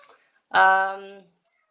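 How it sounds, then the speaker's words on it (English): A single cat meows once, a clear drawn-out cry close by, surrounded by quiet. "that's my cat, sorry, if you can hear her"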